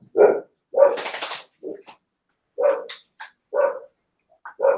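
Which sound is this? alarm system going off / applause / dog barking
dog barking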